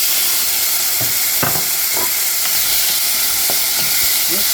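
Tomatoes sizzle in a hot pan with a loud, steady frying hiss, broken by a few soft stirring scrapes and knocks against the pan.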